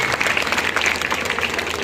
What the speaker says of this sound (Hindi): लड़कियों के लिए एक बार जोरदार तालियां बजा दें